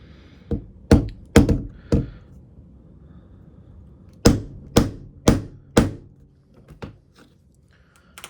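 Sharp metallic hammer strikes on a hinge pin of a Victorinox Swiss Army knife land in two clusters of four or five blows each, loud and close, with quiet gaps between the groups.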